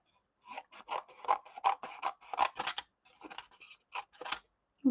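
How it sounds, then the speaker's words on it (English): Small Altenew scissors snip through paper in a quick run of close, crisp cuts, some paired, separated by brief pauses, with no talk over them. "Give it a bit of a snip"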